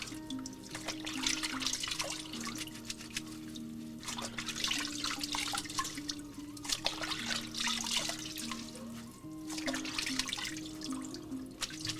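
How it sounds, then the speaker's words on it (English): Tap water running into a sink while a cloth is rinsed, an uneven splashing and trickling that surges and dips under a low steady background hum, with no talking. "Now, I'm gonna just wash this cloth out."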